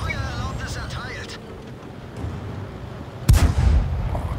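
A tank cannon fires in the World of Tanks game, heard as one sharp, loud blast near the end over ongoing game engine rumble and background noise, with a voice speaking earlier.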